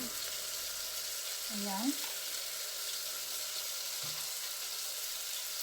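Chicken pieces browning in a pan for Filipino tinola, giving a steady broadband frying sizzle throughout, with a short spoken word near the start and otherwise no talk.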